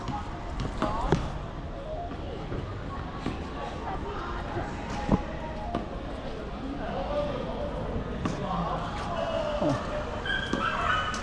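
Dogs bark and yip now and then near a dog obstacle course and food trucks at Barra, Macau, with steady crowd and street noise throughout.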